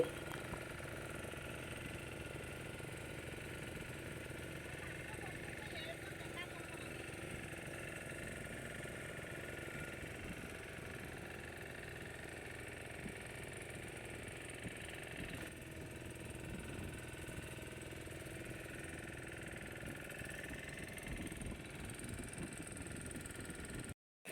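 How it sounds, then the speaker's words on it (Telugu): A motor boat engine runs on a trip near Puri, a steady low drone and rumble heard faintly and continuously throughout, with no voices over it. "కొంచెం మోటార్ సౌండ్ బాగా వస్తుందండి"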